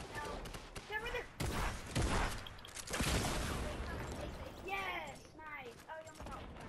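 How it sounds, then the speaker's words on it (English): Shotgun fire in the Fortnite video game: a few sharp, loud blasts spaced a second or so apart, heard close up beneath excited overlapping voices of players talking. "I just shotgun them both."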